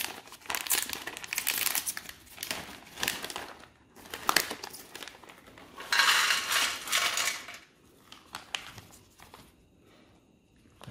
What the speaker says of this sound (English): Next, let's open up the chili peanuts.